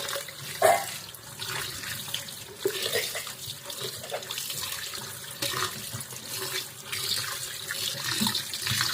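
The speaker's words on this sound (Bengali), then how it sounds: "এখন মাংসটাকে ভালো করে ধুয়ে নেব, পরিষ্কার করে ধুয়ে নিয়ে তারপর রান্নায় লাগবে" Pieces of mutton being washed under a running tap, a continuous splashing stream of water into a sink with small shifting splashes throughout.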